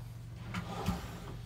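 A quiet, very deep drawer in a motorcoach slides and bumps shut, giving a couple of soft knocks in an otherwise still room.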